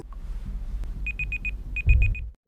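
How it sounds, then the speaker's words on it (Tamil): A tracking device on a cat's collar gives two quick series of four high electronic beeps, evenly spaced and clear, over a low background rumble. "அந்த பூனை கழுத்தில் கட்டின ட்ராக்கிங் டிவைஸ்லேருந்து பீப் பீப்னு சத்தம் கேட்குது"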